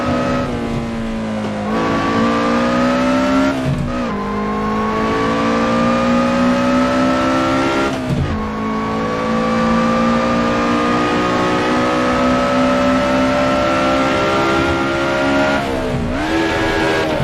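Car engine in the Assetto Corsa racing game, a sustained loud rev with rising pitch that holds steady, broken by brief dips at each gear change, including one fumbled shift, running alone without talk.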